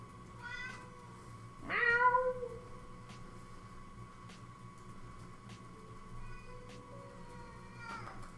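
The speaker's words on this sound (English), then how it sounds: "What is wrong with that cat?" A cat meows a few times at a moderate distance, one longer drawn-out meow standing out, over a faint steady background hum with no talking.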